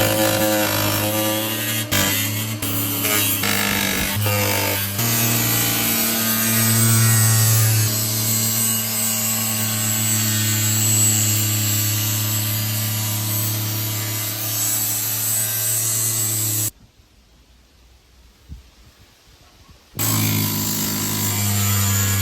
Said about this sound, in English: So now it's time to grind off the ends of those screws.